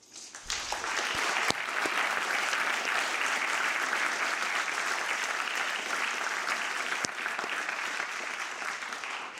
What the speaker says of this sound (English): we have now a good applause for them